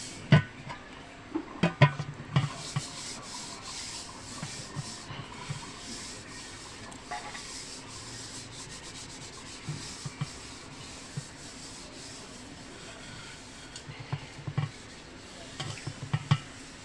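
A hand works white cooking oil around the outer surface of a pot for homemade doi, giving steady close-up rubbing and gentle smearing with occasional small knocks and scuffs throughout.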